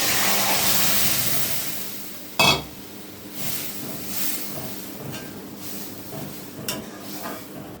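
Lentils are poured into a hot pan of spiced oil and sizzle loudly, then the sound settles into softer frying and stirring, with a sharp utensil clank and a few light scrapes.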